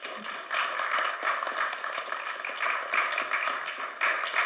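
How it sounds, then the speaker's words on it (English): Applause at a Little Rock city Board of Directors meeting, a dense steady clatter of many hands clapping, moderately loud and continuous throughout with slight swells, no voices over it. "if you could give these men and women a round of applause"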